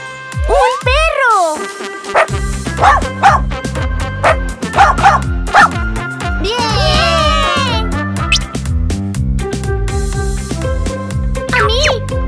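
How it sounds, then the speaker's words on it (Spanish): Cartoon dog in a children's learning video yipping, barking and whimpering, loud and close over bouncy background music, with playful childlike voices speaking between the barks. "¡Un perro!"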